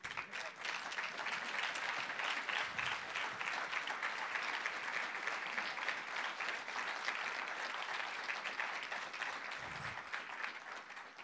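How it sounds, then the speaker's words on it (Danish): Audience at a library association general assembly applauding the board, a sustained, steady wash of clapping heard from some distance, fairly quiet overall. "så vi kan klappe af dem?"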